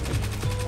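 The Seventh Seraph Carbine auto rifle in a video game fires a rapid, steady burst of dense, even shots in under a second, loud and close, with no talking over it.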